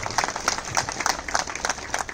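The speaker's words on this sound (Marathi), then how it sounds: "असा खरं एकदा टाळ्या जोरदार त्यांच्यासाठी वाजवा." An audience at a village Marathi literary festival poetry gathering claps together, a dense burst of applause at steady strength lasting the whole moment, with no voices over it.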